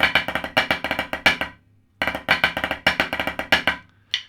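Snare drum playing one bar of a drum corps break, crisp rapid strokes mixing triplet and four-note groupings, played twice with a brief pause between, close and loud with no talk.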